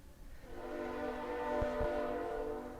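A passing train sounds its horn in a long, steady, fairly loud blare with a low rumble beneath it, heard outdoors during an exercise warm-up.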